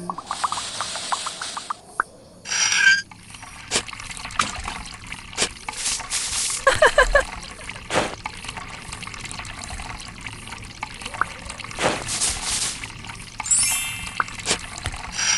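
Water trickles and splashes from a tap while a Rapunzel doll is washed, with intermittent running and dribbling, small clinks and handling noises, and occasional soft splashes throughout.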